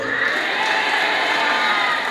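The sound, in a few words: children clapping and cheering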